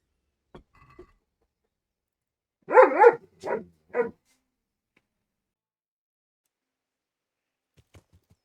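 A dog indoors lets out a short cluster of three close yips and squeaky barks, then falls quiet.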